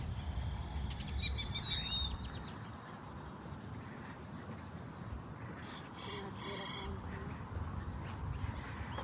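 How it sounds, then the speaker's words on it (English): Many birds chirp and call from a tree in a park, with scattered high tweets and trills over steady low outdoor rumble, some calls near and others farther off. "There's a lot of birds in this tree."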